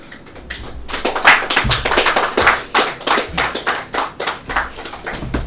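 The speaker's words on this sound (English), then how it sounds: "Round of applause for Dr." A studio audience breaks into steady, loud applause, many hands clapping together in a dense burst that holds for several seconds.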